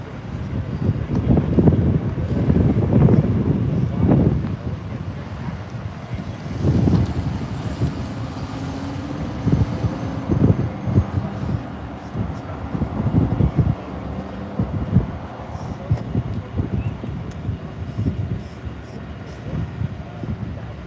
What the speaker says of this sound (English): It's hard to find those planes on this phone with the wind blowing.